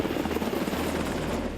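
A Coast Guard H-60 Jayhawk helicopter over the ocean gives a steady, dense rotor roar and engine whine with rapid rhythmic blade chop, loud and close throughout, with no voices.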